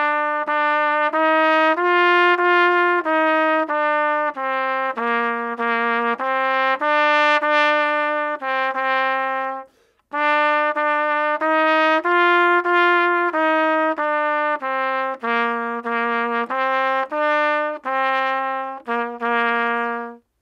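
Solo trumpet plays the opening eight bars of Ode to Joy as a steady run of clear, sustained notes, with a brief pause near the middle before the phrase repeats. No other instruments or voices.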